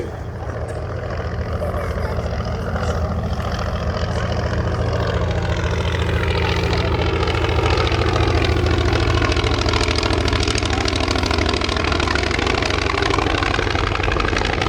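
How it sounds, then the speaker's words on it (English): A Polikarpov Po-2 biplane's radial engine drones steadily at an air show, a continuous loud propeller hum that swells slightly as the aircraft flies in. "Meanwhile, in from the left, the Polikarpov PO2."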